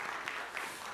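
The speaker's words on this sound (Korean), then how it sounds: "우리 박수로 다시 한번 격려하겠습니다." Brief, steady applause from a church congregation during a special early-morning prayer service, one continuous wash of clapping.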